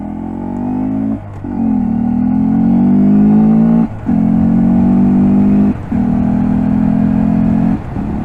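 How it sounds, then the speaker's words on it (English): A Honda Grom motorcycle accelerates hard through the gears, its loud, close engine note climbing in pitch and then dropping briefly at each of several shifts before rising again. "Just fly through the gears on a Honda Grom"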